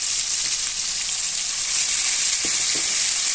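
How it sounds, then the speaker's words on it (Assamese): Marinated chicken for kadhai chicken frying in a pan, a steady loud sizzle throughout with a couple of faint utensil taps near the end. "এইখিনি খুব ভালদৰে ভাজিব লাগিব।"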